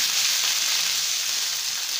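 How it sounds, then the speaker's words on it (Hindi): Cumin seeds and capsicum sizzle in hot oil for a tempering, a loud, steady, close hiss of frying that continues evenly without pause, with no voices. "अब इसमें जीरा डाल दिया है और ये जो शिमला मिर्च बचाई थी ये डाल रहे हैं"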